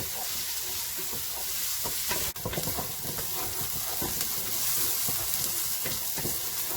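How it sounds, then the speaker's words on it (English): Chilli con carne ingredients, including garlic, sizzle steadily in a hot pan while being stirred, with a continuous close frying hiss and occasional scraping stir sounds. "Stir and fry for about 5 minutes, or until they're nice and brown."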